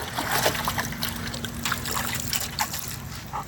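A puppy splashing and hopping around in water, with light trickling and splattering sounds coming in quick irregular bursts close by over a continuous watery background.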